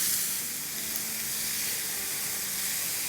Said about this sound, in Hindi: 2 मिनट के आसपास हो गए प्याज को सौटे करते हुए